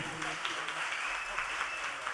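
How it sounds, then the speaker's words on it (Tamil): At the Kallei Arangam 2025 music event, an audience gives a faint, dense patter of applause for an orchestra of musicians, sounding distant and steady over the whole stretch. "ஸோ இவங்களுக்கு ஒரு பெரிய கைத்தட்டல் கொடுங்க."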